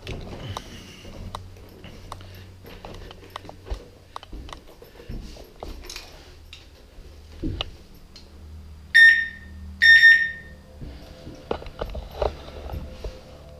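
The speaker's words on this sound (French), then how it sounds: "j'ai éteint un détecteur pour qu'il s'active" A ghost-hunting detector alarm at a night exploration, sounding two loud, sharp electronic beeps close together among quiet clicks and handling knocks, with no talking.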